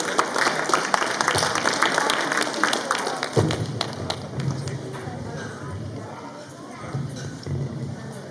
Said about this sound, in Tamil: எல்லாரும் ஒரு பெரிய கைத்தட்டல் கொடுத்துடலாம்.